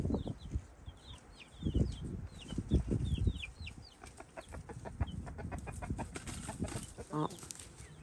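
Backyard flock of chickens, with a rooster among hens and newly introduced chicks, making repeated short clucks and scattered higher chirps at close range with no talk.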